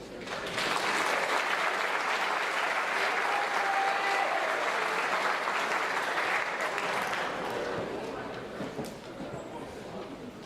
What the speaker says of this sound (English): thanks for getting us cheering